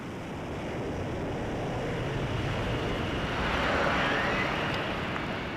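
Lockheed's X-plane lift fan jet thrust while the fighter hovers: a steady, powerful roar of rushing air and turbine noise, swelling slightly midway and holding at a constant, loud level.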